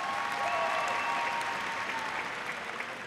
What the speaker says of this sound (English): please join me in a round of applause for the Waco High School honor graduates of the class of 2013